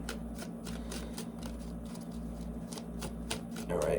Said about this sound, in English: Because I'm still going to shuffle.